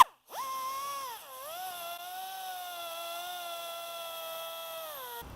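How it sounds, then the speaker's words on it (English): A tapered burr bit cuts a V-groove into polyurethane plastic, a steady high-pitched rotary whine that dips briefly as it bites, then holds a near, even tone until it stops. "take a tapered burr bit and you want to cut a V-groove kind of tight, more than halfway"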